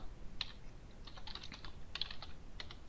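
Fingers typing a short command on a computer keyboard, a quiet run of close, irregular key clicks in small bursts with no talking.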